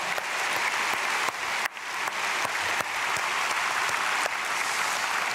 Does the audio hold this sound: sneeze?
no